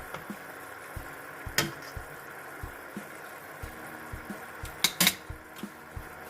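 Green curry with shrimp being stirred in a pot, giving soft, regular scrapes and light knocks with occasional sharper clinks of a utensil against the metal over a low, steady simmering background.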